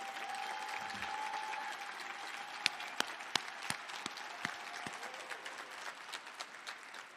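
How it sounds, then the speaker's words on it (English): Steady applause from the audience at a teacher of the year gala for a charter school, a soft, distant wash of many hands clapping with a few sharper individual claps standing out. "Please give Chairman Mendelson a round of applause."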